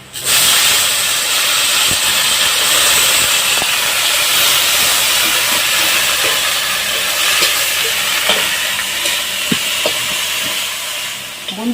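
Wheat greens dropped into hot oil at home, setting off a loud, dense, continuous hiss of sizzling and steaming that holds steady throughout, close up, with faint stirring clicks.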